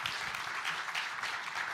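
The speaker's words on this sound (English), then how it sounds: "can we give Jamie a round of applause?" A crowd at a live conference day gives Jamie a round of applause, a brief, dense, steady burst of many hands clapping at moderate volume, heard on its own.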